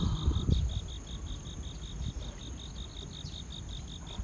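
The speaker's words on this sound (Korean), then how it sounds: "근데 귀뚜라미가 울고 있어요." Crickets chirp along a shaded valley trail beside water on Jeju, a steady series of short, evenly spaced high pulses, fairly close and unbroken, with faint outdoor ambience and no voices.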